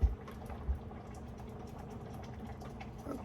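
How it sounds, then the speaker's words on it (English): Goulash sauce bubbles in a pot with a soft, low, continuous simmer, a few faint thuds near the start, and no talk. "it's literally boiling in one spot and has been"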